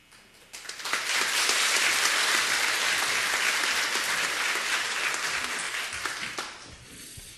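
Loud, dense audience applause fills the room at a church pastor's installation service, swelling quickly and holding steady for several seconds before tapering slightly at the end.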